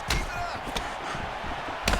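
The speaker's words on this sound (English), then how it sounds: "Oh, the head kick lands." In the UFC 5 fighting video game, a few dull, punchy strike impacts land, including a head kick, spaced over about two seconds under faint commentary.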